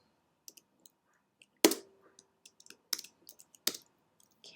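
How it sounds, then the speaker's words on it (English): Scattered keystrokes on a computer keyboard, a few sharp close clicks and lighter taps in an irregular burst against near silence. "I'm going to type in Shakespeare."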